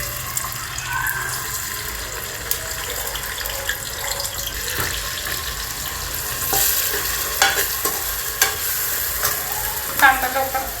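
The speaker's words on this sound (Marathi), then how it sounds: "कांदा टाकते।" Onion frying in hot oil for mutton keema gives a steady close sizzle, with utensil scrapes and clinks from stirring that grow busier toward the end.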